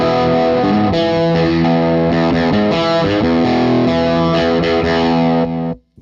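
Electric guitar chords run through a distortion pedal ring out thick and saturated with a faint chorus-like shimmer, loud and sustained, then cut off abruptly at the end, with no voices.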